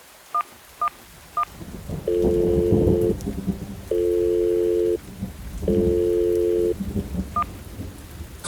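Telephone call over steady heavy rain: a few short touch-tone dialing beeps, then three long ringback tones of about a second each, loud and close, over a constant rain hiss with occasional deep rumbles.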